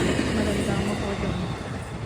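A train passes on a Japanese line with green cars, a steady broadband rumble and rush of wheels and air filling the scene without letup, close and fairly loud.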